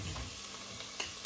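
Onions fry in a pan, a low, steady sizzle close by with a faint clink near the end and no voices.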